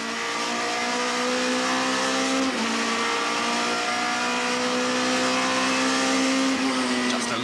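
Onboard a Nissan Primera touring car at Kyalami in the 1998 Bankfin series, the engine pulls up through the gears toward about 180 km/h, a loud rising whine with a quick dip at each upshift.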